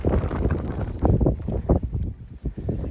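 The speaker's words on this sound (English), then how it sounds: "It's really windy." Strong wind roars and buffets the microphone in loud, rumbling gusts, with no voices.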